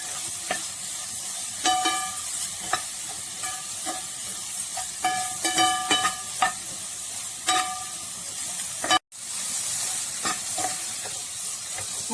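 A spoon clinks and scrapes against a bowl while egg bhurji ingredients are mixed, giving irregular sharp metallic taps in short bursts over a low background hum, with a brief dropout midway.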